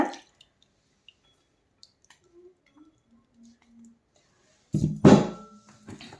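Hot liquid is poured into roasted semolina for a semolina cake. A few faint drips in near silence lead to a short, close burst of splashing and bubbling near the end.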